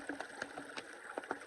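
Water squeezed from a backpacking filter into a bottle while camping in the woods, a quiet run of short splashing spurts and trickles, each burst brief and close.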